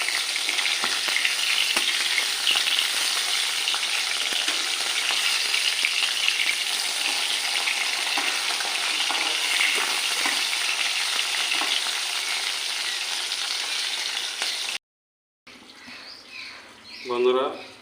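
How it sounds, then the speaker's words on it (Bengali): Hilsa fish head and tail frying in hot oil in a kadai, a steady, close sizzle that runs unbroken for most of the clip, then cuts to a brief stretch with a voice speaking. "মাছের মাথাটা লেজটা একটু ভেজে নেব।"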